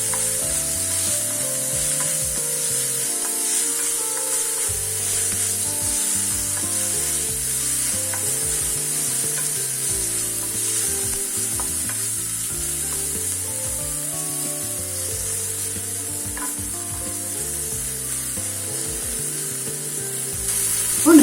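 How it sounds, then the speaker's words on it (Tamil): Pirandai, the adamant creeper, is sautéed with a little salt in a pan, giving a steady, continuous sizzle with soft scraping and stirring throughout, close and fairly loud, with no talking. "வதக்கும் போது நம்ம இதில் கொஞ்சம் உப்பு போட்டு வதக்கினா சீக்கிரமா வதங்கிடும்."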